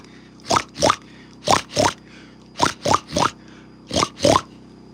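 A human voice imitates a pig oinking, giving four bursts of paired, nasal grunting oinks in a steady rhythm, close and fairly loud with quiet gaps between pairs.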